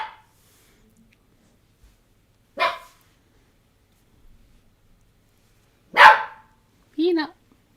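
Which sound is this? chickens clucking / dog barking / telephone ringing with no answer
dog barking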